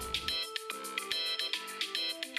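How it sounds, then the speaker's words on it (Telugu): A mobile phone ringtone plays a bright repeating electronic melody of quick pitched tones, loud and close with no voices. "ఏదో అన్నోన్ నెంబర్ నుంచి ఫోన్ వస్తుంది"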